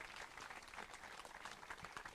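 An audience at a French campaign TV event breaks into sustained applause, dense steady clapping that fills the whole stretch at a constant level, with no voices standing out.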